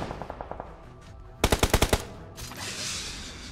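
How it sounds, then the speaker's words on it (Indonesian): Gunfire in PUBG Mobile: a quick run of light shots, then a burst of about six loud, evenly spaced blasts, followed by a hissing wash of noise. "Ini shotgun kah?"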